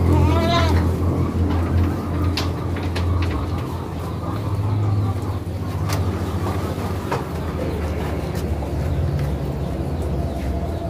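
A goat with a skin disease bleats loudly at the start over a steady low mechanical hum, followed by scattered clicks and knocks nearby.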